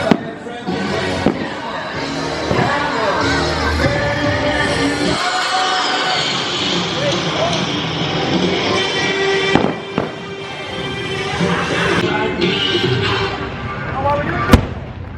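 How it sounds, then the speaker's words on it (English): Magic Kingdom fireworks heard from the front car of the Seven Dwarfs Mine Train, with sharp booms and crackles cutting through rattling ride noise, music and riders' voices, plus a few loud isolated bangs near the end. "A front car ride on 7-door mine train during fireworks"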